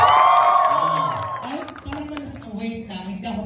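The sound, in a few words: audience applauding and cheering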